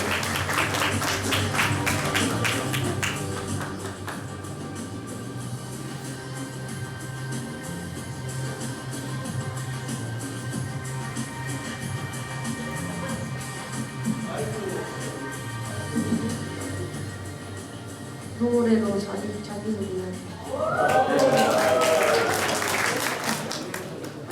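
A school entrance ceremony crowd claps for a new student called to the stage. A long, steady patter of many hands fills the hall, with faint voices and tones near the end.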